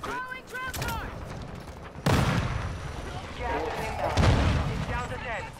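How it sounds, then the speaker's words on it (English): A grenade launcher fires during an online battle royale shooter match: rapid booms and blasts with other gunfire, while players talk over the action. "Grenade launcher."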